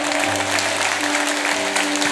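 A church congregation applauding at a Pentecost vigil, a brief steady wash of clapping over a low sustained hum.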